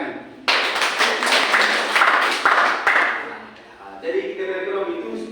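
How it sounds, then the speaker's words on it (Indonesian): Schoolchildren in an elementary classroom break into quick, close applause that lasts a couple of seconds and then fades, followed by a teacher speaking. "Tepuk tangan."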